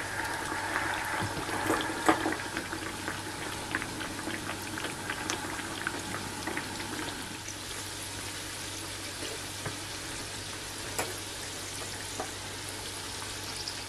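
Food frying in a pan of oil, a steady close bubbling sizzle with scattered pops and crackles lasting throughout, no voices.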